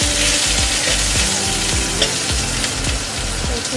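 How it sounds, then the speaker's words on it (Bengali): Potatoes sizzle steadily in hot oil, with a spatula scraping and stirring the pan in a loose rhythm. "মাছের আলু ভাজছি"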